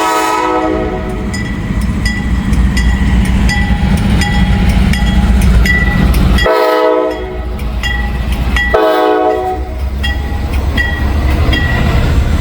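A loud loaded ethanol train rumbles past close by in the rain, steady heavy roar with rhythmic clacking of wheels, briefly dipping twice as cars go by.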